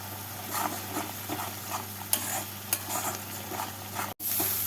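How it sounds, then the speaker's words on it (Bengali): Masala spice paste stir-fried in a pan for a catfish curry, with a soft steady sizzle and occasional scrapes of a spoon against the pan, quiet and close with no talking. "মশলা কষানো হয়ে গেছে"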